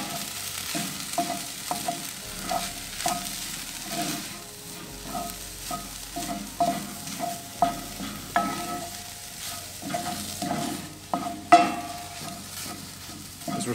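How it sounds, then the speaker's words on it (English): Peppers, onions and spices sizzle steadily in a pan over a barbecue, with repeated scraping and clattering stirs of a utensil breaking through the frying hiss, close and fairly loud with no talking. "So I want to toast these off for a few minutes before we go in with the tomatoes."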